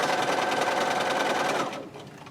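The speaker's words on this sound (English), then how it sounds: "just going to sew a 1/4 inch seam all the way to the end" Up close, a sewing machine runs a steady, fast stitching hum while sewing a quarter-inch seam on a quilt, then winds down and stops near the end, with no talking.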